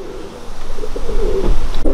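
Soft, low cooing from adult pigeons murmurs steadily inside a loft, with several birds overlapping in a close, muffled chorus.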